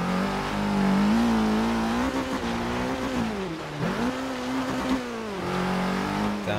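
A 2013 Dodge Dart GT engine in the Forza Horizon 3 racing game, revving hard uphill with steady droning pitch that dips twice as it downshifts and climbs again, loud and continuous with no talk.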